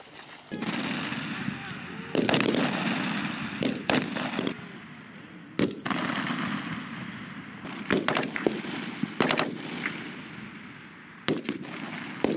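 Sharp rifle shots crack repeatedly at a Marine rifle squad competition, single reports and short bursts spaced irregularly over a constant outdoor rumble, with faint voices between.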